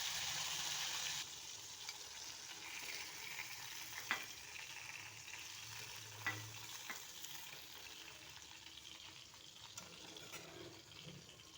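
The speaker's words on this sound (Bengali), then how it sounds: "মাছগুলো ভাজা হয়ে গেছে নামিয়ে নিচ্ছি" Pieces of boal fish fry in hot oil, a steady close crackling sizzle that runs throughout, with a few sharp utensil clinks and scrapes breaking through now and then.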